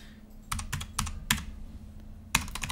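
Keys clatter on a computer keyboard as a password is typed, in several quick bursts of close, crisp clicks separated by short pauses, with no voices.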